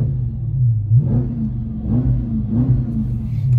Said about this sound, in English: But this car will get up and boogie.